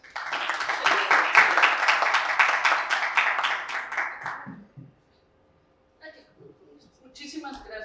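An audience at a law session applauds warmly for about four seconds, the clapping dense and close before fading out, followed by a pause and a few scattered sounds and a voice near the end.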